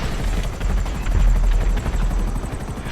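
Helicopter in GTA Online, a steady loud rotor chop with dense low thumping throughout, alone with no talk.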